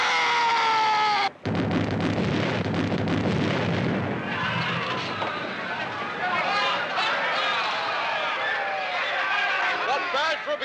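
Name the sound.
ship's starboard guns firing, artillery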